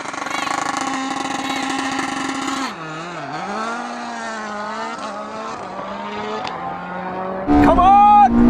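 A Red Bull rallycross car and a Porsche hypercar line up for a drag race. Engines whine and rev with shifting pitch, then erupt in a sudden loud surge of acceleration at the end.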